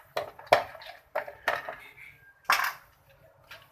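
Macaroni salad being mixed with dressing in a bowl, a spoon giving a handful of close, irregular clinks and scrapes against the bowl with short pauses between strokes.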